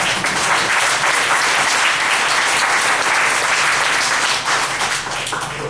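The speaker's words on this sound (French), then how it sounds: "Ça vaut un applaudissement" Sustained, dense audience applause fills the whole stretch at a steady, loud level, closing an evening gathering about cégep student strike mandates in Quebec.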